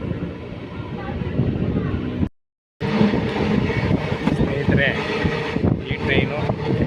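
Train leaving Nandi Hills railway station, a steady rumble of the moving carriages with wind noise, briefly cut out, while someone talks over it.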